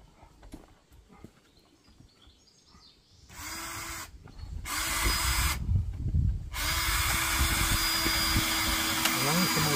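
Angle grinder cutting through a screw on a broken water tank, starting abruptly after a quiet stretch, then a steady loud harsh whine with brief pauses, close by.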